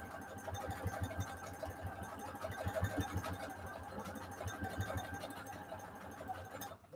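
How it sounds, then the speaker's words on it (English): Sewing machine running a decorative stitch through fabric, a steady mechanical whir with rapid rhythmic needle thumps, close and continuous, stopping near the end. "And I am using a decorative stitch."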